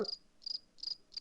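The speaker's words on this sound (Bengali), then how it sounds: "ঝিঝি পোকার ডাক শোনা যাচ্ছে" Crickets chirp outdoors in the dark before dawn, four short, shrill, evenly spaced bursts that sound faint and close with quiet gaps between them.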